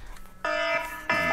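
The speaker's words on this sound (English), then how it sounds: "Backup alarm." An electronic backup alarm beeps loudly twice in quick succession, each tone a sustained harsh buzz following a brief quiet moment.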